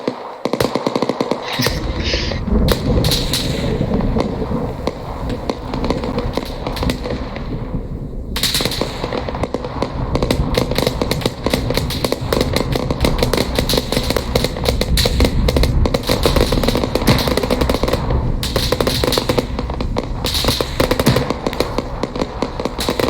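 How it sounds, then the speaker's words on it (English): Dense, continuous gunfire from a military video game battle, rapid automatic bursts and cracking shots overlapping without pause for the whole stretch, loud and close with distant firing behind. "at least the enemies are shooting back this week"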